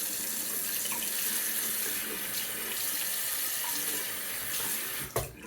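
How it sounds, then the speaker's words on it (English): Tap water runs steadily into a sink as a 1950s Gillette ball-end razor is rinsed, a close, continuous splashing hiss that ends in a brief knock. "Let me do another quick little rinse."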